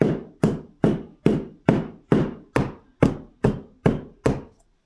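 A container of bread ingredients, about 1,000 grams, is tamped down against a surface. Ten loud, evenly spaced thumps land roughly twice a second, each with a short decay, close by and with no speech.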